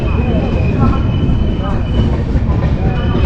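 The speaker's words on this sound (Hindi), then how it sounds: "यहाँ पर सिर्फ 2 मिनट के लिए रुकेगी अपनी ट्रेन।" Rajya Rani Express passenger train slowing into Mansi Junction, heard from on board as a loud, steady rumble of wheels and carriage noise with faint squeals, with talk in the background.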